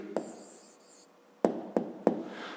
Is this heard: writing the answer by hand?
yes